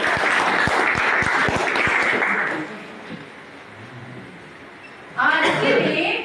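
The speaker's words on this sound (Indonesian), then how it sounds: "terima kasih beri aplaus" A class audience claps, dense applause from many hands fading out after about two and a half seconds, then a short lull before a second burst of clapping near the end.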